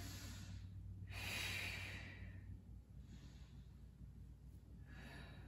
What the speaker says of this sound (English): 2 deep breaths here.